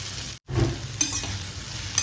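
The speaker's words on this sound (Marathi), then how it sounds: "मसाल्यावर भेंडी परतून घ्यायची व्यवस्थित एक मिनिट" Okra stir-frying in a turmeric, asafoetida and coriander spice masala after mustard and cumin seeds crackled, a steady close sizzle with stirring scrapes and a brief dropout near the start.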